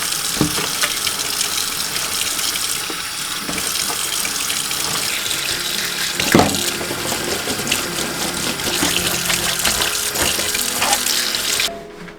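Continuous rushing stream of water from a tap splashing into a kitchen sink, loud and close for about twelve seconds with a brief clatter midway, stopping abruptly at the end.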